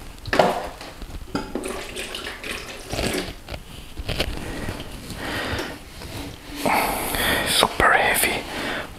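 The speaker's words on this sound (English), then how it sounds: "Super heavy watering can." Water pours and splashes from a heavy watering can into a box used as a humidifier for banana plants, in close, intermittent bursts between soft whispered speech.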